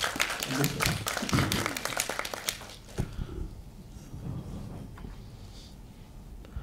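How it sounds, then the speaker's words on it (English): A small audience at a hospital postgraduate training session claps after a presentation, a short burst of scattered hand claps up close that thins out after a few seconds, leaving only faint room noise. "Give him a big round of applause."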